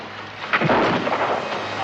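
A gunshot rings out in a Daniel Boone western, one sharp boom that rolls into a long rumbling echo, heard close and loud against the outdoor air.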